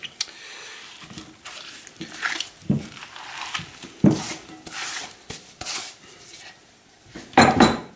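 Chinese cabbage is worked firmly into a chili kimchi sauce in a bowl, making irregular wet squelching and rubbing bursts with occasional clinks against the container, close and fairly loud.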